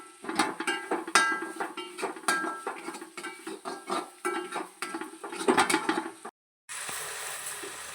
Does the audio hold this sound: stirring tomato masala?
yes